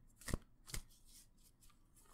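A deck of angel cards being shuffled close up, with two crisp riffling bursts followed by softer card rustles, quiet and intimate, with no talking.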